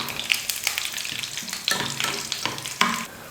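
Chopped cashews frying in hot ghee in a pan, a close, steady sizzle with several sharp spatula stirs and scrapes, no talking.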